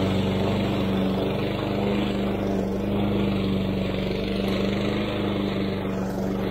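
A lawn mower cuts very long, overgrown grass with a freshly sharpened blade, its engine droning loudly and steadily up close with a constant low hum and slight strain.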